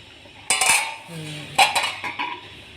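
A metal lid is set onto a pot of simmering egg pulusu in two sharp clattering clanks about a second apart, each ringing briefly before fading.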